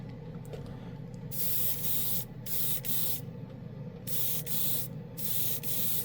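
Spray gun applies paint mixed with leveling thinner to a spoon in a paint booth, several steady hissing bursts of about a second each separated by short pauses, close and clear.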